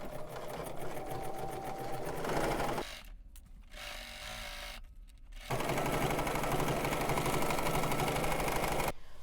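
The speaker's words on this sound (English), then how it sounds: "Let's head over to the machine and sew this down at 5/8 of an inch seam allowance" A sewing machine stitching a seam at a 5/8-inch seam allowance on a garment from sewing pattern ME 2102, running in loud, fast, steady bursts that stop twice for a few seconds before resuming, with no talking.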